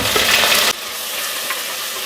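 Onions, curry leaves and a little mint fry in hot oil in a pan for a chicken soup tempering. A loud sizzle drops suddenly to a softer, steady crackle that continues close by.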